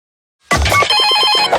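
A telephone rings inside a radio show jingle for a talk station, a loud, bright electronic ring with a fast pulsing warble that starts abruptly after a moment of silence and carries on steadily.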